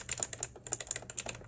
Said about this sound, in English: Oh, that clicky switch.